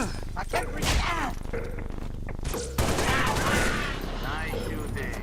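Rapid gunfire bursts and impacts from a shooting video game, likely Halo, crackle through the clip alongside explosive crashes, with a player's voice talking over the action.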